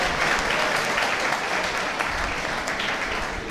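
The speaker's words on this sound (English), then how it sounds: "And an even bigger round of applause for yourself." A large group of students claps for themselves at a campus pre-placement talk, a thick, unbroken burst of applause filling the room at steady volume with no voices over it.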